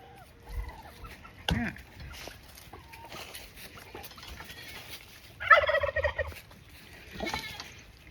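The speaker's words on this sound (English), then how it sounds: "You turkeys, leave him alone." Turkeys gobbling in a farmyard during chores, several bursts of loud close gobbling calls with clucking fowl around, and a person talking softly between the calls.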